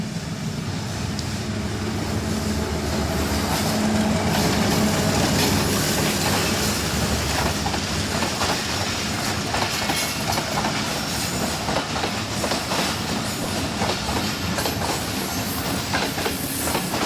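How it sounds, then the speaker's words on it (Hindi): A train rolls past continuously at an old railway station in Pakistan, its wheels clattering with a rhythmic clickety-clack over a dense, loud rumble that holds steady for the whole stretch. "ट्रेन गुजर रही है।"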